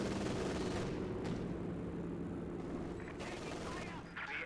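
An MG42 mounted on a Panther tank in a World War II strategy game firing in sustained rapid bursts, dense and loud throughout with distant booms and other battle noise layered underneath.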